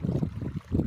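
A water pump motor runs in a rice paddy field with a brief, low, throbbing rumble and a rushing wash of flowing water, heard close up.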